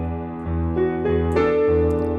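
A piano plays a line from a song, sustained chords with a melody stepping upward over a few seconds, clear and close with no talking.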